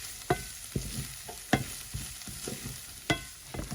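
Chopped onions with garlic and walnuts sizzle and sauté in a hot pan, with periodic clacks of a utensil stirring about once a second.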